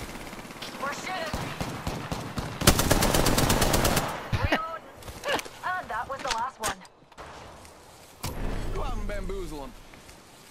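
Bursts of rapid automatic gunfire in a sci-fi shooter video game, a loud dense rattle followed by scattered shots and impacts, mixed with voices talking over the action and game effects.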